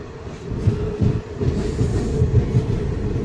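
A train on the Srinagar–Banihal line runs steadily with a low rumbling roar. Rhythmic wheel clacks repeat over the tracks, heard from inside the carriage, continuous and fairly loud.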